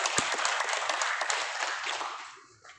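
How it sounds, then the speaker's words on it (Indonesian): A crowd at a Bankompol Kantibmas branch assembly in Makassar claps together in a dense burst of applause that holds for about two seconds and then fades out. "Kita tepuk tangan dulu."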